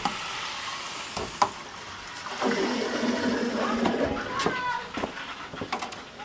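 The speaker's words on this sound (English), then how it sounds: "I'm going to turn the water on right now." Water is switched on and rushes through a newly fitted well water filter, a hissing, splashing flow that swells up midway and then trails off. Scattered knocks and clicks from handling the fittings sound before and after it.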